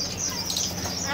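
Birds chirp in a pet shop, thin high tweets over a busy indoor murmur, a steady moderate chatter with no clear speech.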